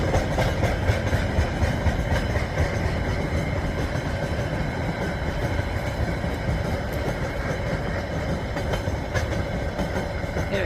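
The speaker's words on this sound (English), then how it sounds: "This train goes right through suburbia here." A KiwiRail freight train rolls through the Christchurch suburbs with continuous heavy rumble and rhythmic wheel clatter, close and steady throughout.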